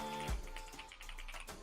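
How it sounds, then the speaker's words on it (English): Typing on a keyboard fitted with the official Honkai Star Rail Kafka keycap set: a soft thump, then a quick run of light, close keystrokes over a faint hum, with no one speaking. "I got the official Honkai Star Rail Kafka keycap set with the keyboard."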